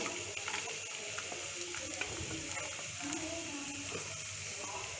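Coconut pieces, ginger, garlic and green chilli are sautéed in a pan, giving a soft continuous sizzle with light scraping and stirring, fairly quiet and mixed with faint background noise.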